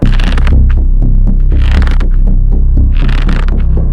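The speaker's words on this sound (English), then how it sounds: "His heartbeat gets more and more erratic with every step he takes" A loud, low throbbing heartbeat pounds in an uneven rhythm under a droning hum, with occasional hissy swells.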